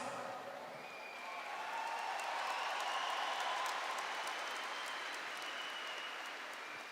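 An audience applauds during a church sermon, a steady wash of many clapping hands that swells and then holds at moderate loudness, heard from within the congregation without talking.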